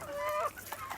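A quick run of clucks from a backyard flock of about 25 chickens: a drawn-out call followed by a couple of short clucks, close and fairly loud.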